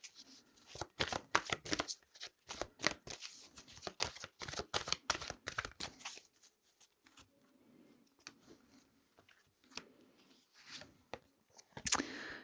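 A deck of tarot cards is shuffled in repeated crisp riffling bursts, close and clear, with softer card handling and light rustling in quieter stretches toward the end.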